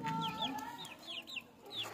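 Qandari and Maiwali chickens cluck and chirp in quick, overlapping calls, close by and fairly loud, with a faint murmur of farmyard background under them.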